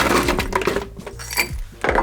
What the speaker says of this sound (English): Fill up with a good chunk of ice.